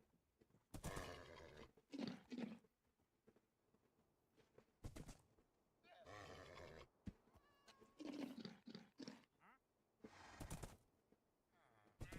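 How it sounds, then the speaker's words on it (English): Horse sounds from the Minecraft video game come in several short bursts of whinnying and snorting, faint overall, with brief pauses between calls. "Okay. Horse."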